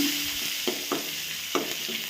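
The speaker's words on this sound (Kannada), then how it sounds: "ಸಾಸಿವೆ ಹಾಕ್ಬಿಟ್ಟು, ನೋಡಿ, ಸ್ವಲ್ಪ ಜೀರಿಗೆ, ಒಂದು 2 ಒಣಮೆಣ್ಸಿನ್ಕಾಯಿ, ಕರಿಬೇವಿನ ಸೊಪ್ಪು, ಸ್ವಲ್ಪ ಕಡಲೆಬೇಳೆ ಒಗ್ಗರಣೆಗೆ" A tempering of mustard seeds, cumin, dried red chillies, curry leaves and chana dal fries in hot oil for a red chutney, with a soft steady sizzle broken by a few sharp stirring scrapes, close and without speech.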